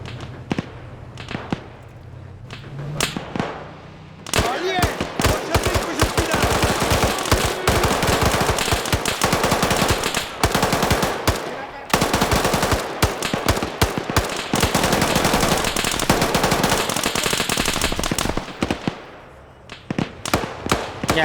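A BMP turret machine gun mounted on a Hilux pickup fires in the Arma video game, long sustained bursts of rapid automatic fire close and loud, with brief pauses and a final few scattered shots.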